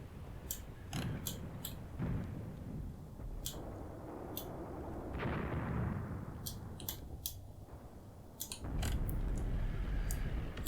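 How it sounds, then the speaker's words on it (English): Artillery shells in the Tank Warfare: Tunisia 1943 game, Longstop Hill battle, land as sharp, scattered cracks and thuds over a rumbling battlefield bed, several separate impacts spread across the stretch. "Let's get 5 rounds per gun into that area."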